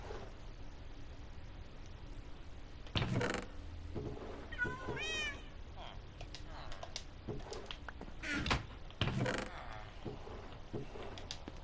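Cats meow a few times in Minecraft on PS4, with short, bright, pitch-bending calls around the middle, under occasional voice and game noise.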